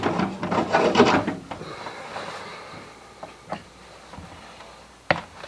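Back cover of a 32-year-old Stihl 084 chainsaw coming off under a screwdriver: a burst of close scraping and rasping at the start, then quieter scattered clicks and a sharp tap near the end.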